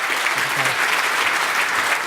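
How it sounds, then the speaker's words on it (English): Audience applause at an awards presentation, steady and dense clapping filling the whole stretch at moderate volume, with no speech over it. "So how about one more round of applause for Andy and his team?"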